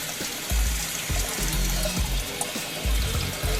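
Muddy water gushes and trickles steadily from a hose draining a basement, with low splashing bursts recurring every second or so, close by and fairly loud, no voices.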